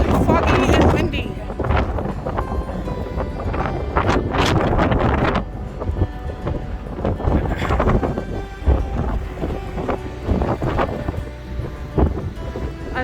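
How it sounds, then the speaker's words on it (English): Strong wind buffets the microphone on the open deck of a Norwegian Sun cruise ship as it arrives in a foggy port, loud gusty roaring that rises and falls throughout. "We're getting into port and the weather is foggy and windy."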